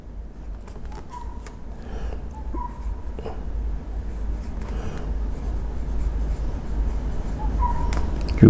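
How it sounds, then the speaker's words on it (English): A Kaweco Classic Sport pocket fountain pen writing a quote in a notebook, giving soft, steady nib scratching with small strokes and pauses, close and fairly quiet over a constant low hum. "write a little quote in this notebook"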